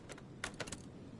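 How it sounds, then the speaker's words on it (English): A car's failing starter motor in a video game, a Hot Rod mod car, giving a few quick, faint clicks in a short cluster over quiet background hum. "Right, the motor's clicking."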